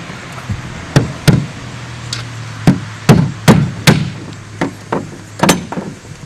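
A hammer drives nails into gutter hangers near a butt seam, landing about a dozen sharp, ringing blows in irregular bursts and pairs, loud and close with quiet gaps between strikes.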